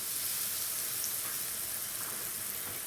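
Steady, soft sizzling of a buttered sandwich frying in a pan, a constant crackling hiss with no talking.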